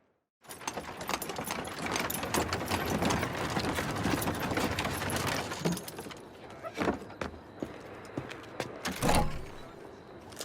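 Horse hooves clip-clop over a rumbling background of carriage wheels and ambience in Assassin's Creed Syndicate, with scattered louder knocks and clatters toward the end.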